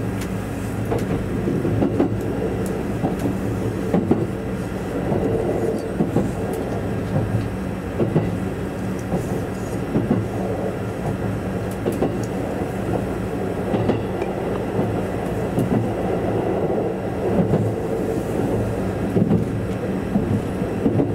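Steady rumble of a Sobu Line limited express train, 255 series, in motion, with a continuous low roar and faint rhythmic clatter of wheels on rails, no talking.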